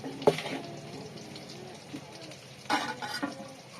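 Cooked rice frying in a pan in a home kitchen, giving a steady low sizzle with a few sharp stirring scrapes near the start and again near the end.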